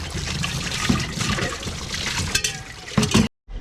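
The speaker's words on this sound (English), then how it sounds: "Now we're going to rinse them off." Running water rinses items steadily, a close, continuous splashing trickle with a few louder spatters near the end before it cuts off abruptly.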